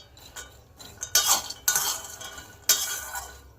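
Peanuts being stirred and fried in a metal pan for peanut chikki: a spoon scrapes and rattles against the pan in several close, uneven bursts with brief quiet gaps between them.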